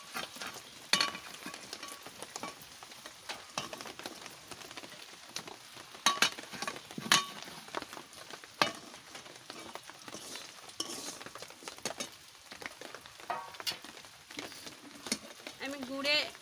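Jaggery being stirred in a pan on the stove, a steady scraping and clinking of a utensil against metal with soft sizzling beneath, under a voice speaking.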